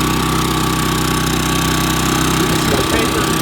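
Exhaust of a Champion 3400-watt dual fuel inverter generator running close up, a loud, steady engine drone with a low rhythmic pulse that turns rougher and uneven near the end.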